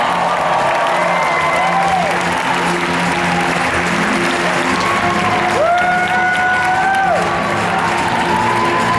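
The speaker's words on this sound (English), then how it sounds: "Round of applause for James Spears, everyone." Convention crowd at a cosplay championship applauding loudly and steadily, with whoops and cheers rising over the clapping, strongest midway through, as an Iron Man Mark 4 costume entrant is introduced.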